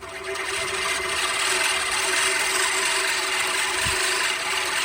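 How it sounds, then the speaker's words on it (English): An American Lawnmower Co. Classic 16-inch manual reel mower cuts grass with a steady, continuous whirring and clicking of its spinning blades against the bedknife, close up and unbroken. "let's go ahead and try this lawnmower out for the first time"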